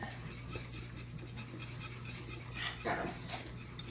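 Dogs fighting whimper and yip in the background, faint and scuffling, with a steady low hum underneath.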